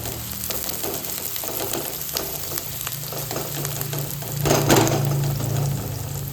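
Curry leaves hit hot oil with onions in a pan, a loud continuous sizzle and crackle that swells briefly as they go in, with faint stirring scrapes and no talking.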